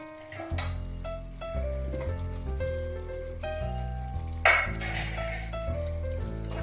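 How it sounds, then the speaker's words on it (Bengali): Fried potatoes drop into a pan of simmering chicken, which sizzles steadily under clinks and scrapes of stirring and a brief splatter midway, close and moderately loud, with no voices. "এবার এতে আমি ভেজে রাখা আলুগুলো দিয়ে দেব।"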